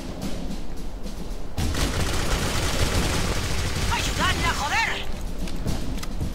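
Gunfire bursts and booms in the video game Clive Barker's Jericho under a chaotic mix, with a voice talking and high chirping effects near the end.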